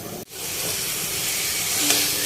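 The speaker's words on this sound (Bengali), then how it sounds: "লাল শাক ভেজে নিচ্ছি।" Red amaranth leaves fry in a pan, giving a dense, steady hiss of sizzling oil, close and loud, briefly cut by a short break near the start.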